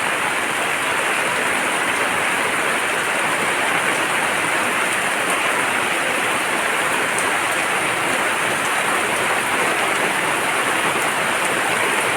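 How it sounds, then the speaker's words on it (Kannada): Heavy rain pours down in a steady, dense roar that continues unbroken throughout. "ಮತ್ತೆ ಶುರುವಾಗಿದೆ ನೋಡಿ ಮಳೆ"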